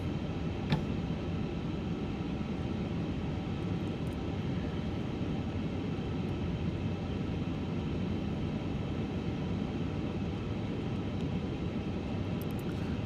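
A heavy airliner taxis in Microsoft Flight Simulator, its jet engines producing a steady, low, even rumble and whine that holds unchanged throughout, with no voices.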